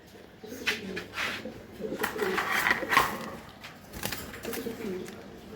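Racing pigeon of the BRPFC line, a red male from an auction, cooing in low repeated murmurs close by, with faint bird chirps and brief voice sounds around it.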